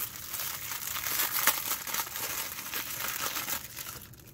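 A plastic mailing bag is cut open and its plastic wrapping crinkled and crumpled close by, a continuous rustling crackle with a sharper snap partway through, fading near the end.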